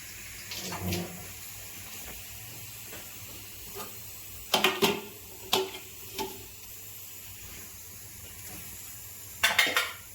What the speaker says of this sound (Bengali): ভেজে রাখা আলুগুলো দিয়ে দিচ্ছি।